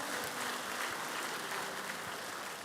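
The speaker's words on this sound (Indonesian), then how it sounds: "Beri tepuk tangan buat Tuhan Yesus." Dense applause from a church congregation at an anniversary service fills the space, steady and fairly loud for the whole stretch with no talking.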